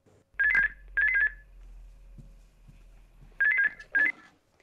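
A telephone line in an office rings while a call is put through, giving two paired tone bursts, a short gap, then two more, clear and close with no talk.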